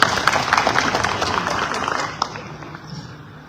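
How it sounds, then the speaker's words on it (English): Audience applause at a presidential debate in Uganda, a dense wash of clapping from a crowd that swells at the start and slowly thins toward the end, with no voices over it. "A round of applause for you."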